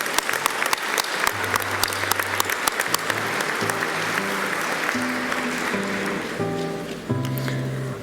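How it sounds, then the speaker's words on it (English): Sustained applause from an audience at a 2019 college graduation ceremony, dense and steady clapping for about eight seconds with a low tonal hum or music beneath it. "so let's give them a round of applause"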